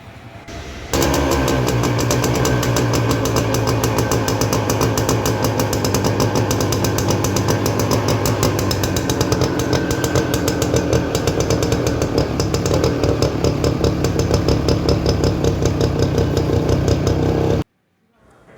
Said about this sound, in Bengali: আপনাদেরকে এখন ইঞ্জিনের সাউন্ড শোনানো হবে